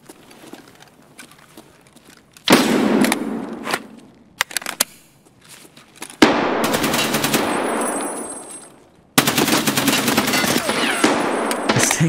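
Bursts of automatic rifle fire in the shooter Escape from Tarkov, several long rapid volleys separated by quiet gaps, loud and close with no talk.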